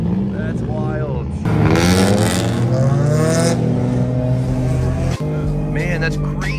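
Drift cars rev in a parking lot in Japan, with engines rising and falling loudly and tires squealing nearby, while people talk over the noise.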